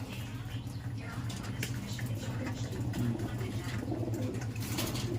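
Pigeons in a loft coo in a low, continuous murmur, steady and close, with scattered bird sounds and faint background noise throughout.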